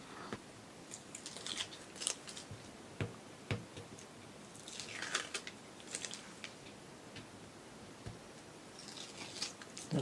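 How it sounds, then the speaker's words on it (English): Backing paper is peeled off the edges of a craft card for a star-shaped calendar, producing soft intermittent crackles, ticks and tearing rustles at close range, fairly quiet with no talking. "so that's all 4 edges peeled off"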